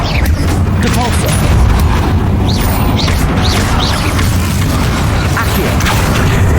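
Depulso spell cast in the video game Hogwarts Legacy, heard within a loud, constant roar of in-game combat effects, booms and crackling bursts, with a brief shouted voice.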